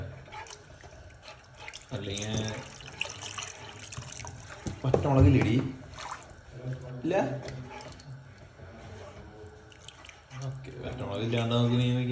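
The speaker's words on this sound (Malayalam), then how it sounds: "നമ്മൾ വെള്ളം ഒഴിക്കണം" Water is poured into a shop-style tuna curry in a kitchen, a soft splashing trickle that comes and goes under a person talking.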